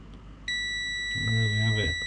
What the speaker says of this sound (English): Let's get the old multimeter out. Check for continuity.